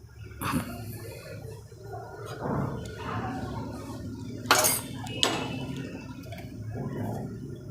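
Metal clinks and scrapes of a spoon against a steel bowl while mixing gunda with turmeric, salt and lemon juice, sporadic and close, with a few sharper taps amid quiet handling noise.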